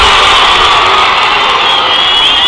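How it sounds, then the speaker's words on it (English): Crowd cheering at a national rugby 15s match in India, a steady broad roar of many voices with no clear breaks, fairly loud and continuous for the whole stretch. "You can hear the crowd from here."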